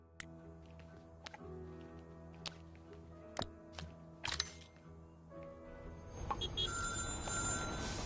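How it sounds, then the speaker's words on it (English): A telephone rings in the factory-management video game Little Big Workshop, a faint repeated ring over a quiet bed of game music, followed by a louder wash of ambient noise near the end. "let's first answer that phone call"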